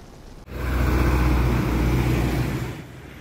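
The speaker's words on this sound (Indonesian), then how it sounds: "Kendaraan pribadi mendominasi yang melintas" A private car passes on the East Sumatra highway between Jambi and Riau, its engine and tyre roar rising quickly, holding steady for a couple of seconds, then easing away, heard alone with no talk.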